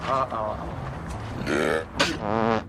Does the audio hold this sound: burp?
yes